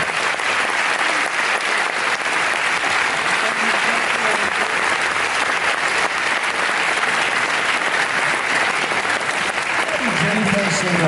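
Loud, sustained applause from a large audience at the Zurich Film Festival gala premiere of American Pastoral, dense and steady for the full stretch, with a few voices mixed into the crowd noise near the end.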